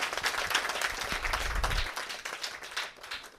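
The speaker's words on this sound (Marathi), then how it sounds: "आपण सगळ्यांनी एकदा कडाडून टाळ्या करायच्या." Applause from an audience at a Saturday gathering for a Warkari education institute, a dense burst of clapping with a low rumble in the middle that thins toward the end.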